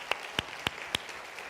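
A few people in a church congregation clap in four distinct, evenly spaced claps, close and sparse, followed by quiet.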